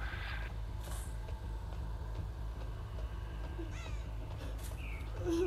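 Crows caw several times, faint and distant over a steady low hum, in the Dead by Daylight video game.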